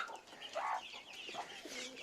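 Hens cluck and murmur softly in a coop during hot weather, several short faint calls overlapping one another with no one talking.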